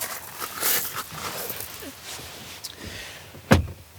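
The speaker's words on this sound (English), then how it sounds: "let's pull back the now wider opening door and take a look" The wider-opening rear door of a 2020 BMW 1 Series is pulled open, giving soft handling noises and a sharp latch click near the end, fairly quiet overall.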